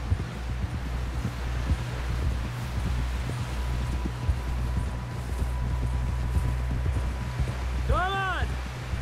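Horse hooves clip-clop steadily over ground in Red Dead Redemption II, a dense rhythmic patter under low rumbling ambience, with a brief chirping call near the end.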